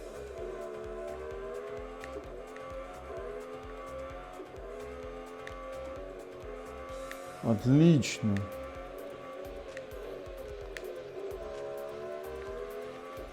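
Real Racing 3 car racing plays through a projector speaker as a steady, fairly quiet engine drone with pulsing rhythm, broken midway by a short, louder tire squeal. A person speaks briefly over it.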